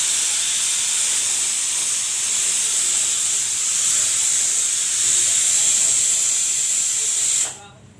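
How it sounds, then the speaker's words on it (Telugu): Black-eyed pea vadas fry lightly in oil, a steady broadband hiss and sizzle that keeps going for about seven seconds and then cuts off abruptly. "ఇలా వేసిన అలసంద వడలు లైట్గా వేగనిచ్చుకోవాలా"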